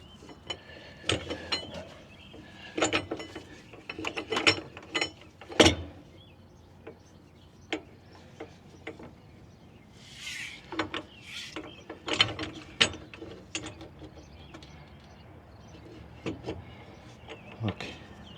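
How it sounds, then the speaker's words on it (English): A hand tool pulls a rear bushing into a Peterbilt 389, giving a series of sharp metallic clicks and ratcheting snaps at an irregular pace, close by, with quiet gaps between bursts. "Now, you're gonna pull the bushing in"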